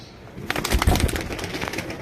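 A pair of Tamral pigeons gives a short burst of soft, close cooing with a brief flutter of movement, heard alone without talk.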